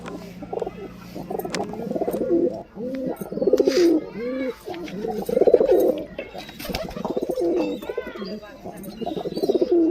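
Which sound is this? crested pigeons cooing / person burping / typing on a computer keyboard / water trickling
crested pigeons cooing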